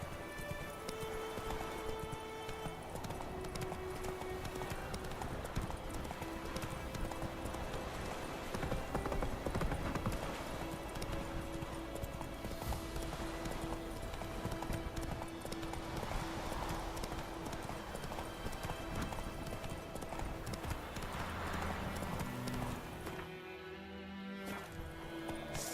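A ridden horse's hooves clip-clop in a steady, continuous rhythm, close and fairly even in loudness, alone with no voices, fading briefly near the end.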